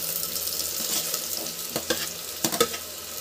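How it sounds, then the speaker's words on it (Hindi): Roughly chopped onion goes into a pan of frying potatoes for pav bhaji, a steady close sizzle with a few clattering stirs and scrapes and no voices. "अब इसमें हम डालेंगे हमारा प्याज जो हमने रफली चॉप करके"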